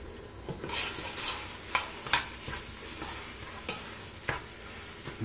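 Two pounds of ground beef browns in a pan for chili, a soft continuous sizzle broken by several sharp scraping stirs of the utensil against the pan.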